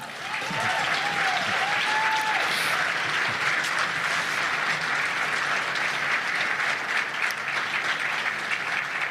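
A political gathering's audience applauds celebrating Manitoba's first woman premier. Dense, sustained clapping fills the whole stretch at full volume, with a brief whistle or shout rising above it early on.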